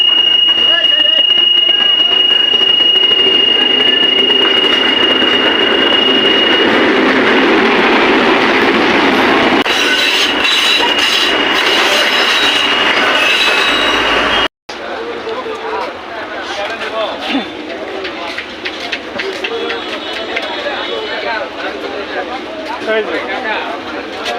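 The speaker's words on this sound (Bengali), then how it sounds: "রেল আসতেছে" A train rumbles past nearby, loud and steady, with a brief break partway, and voices talking underneath the rolling noise.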